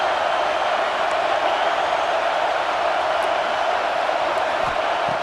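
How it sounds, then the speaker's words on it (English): Stadium crowd in the College Football 26 video game, a steady dense roar of many voices building noise for a red zone defensive stand, continuous and loud throughout. "This crowd is trying to inspire this defense to make a big red zone stop."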